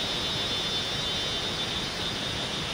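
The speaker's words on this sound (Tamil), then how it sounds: "வண்டு கத்துற சவுண்டு கேட்குதுங்களா?" A beetle buzzes in deep forest on Agasthyarkoodam mountain, a thin, high, unbroken drone that holds steady and fairly faint over a soft hiss of surrounding air, with no talking.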